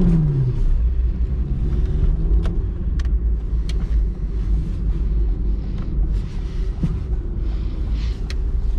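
A 1992 Citroen ZX with a 70 horsepower engine drones steadily from inside the cabin at highway speed, a loud continuous engine and road rumble with a rising note near the start.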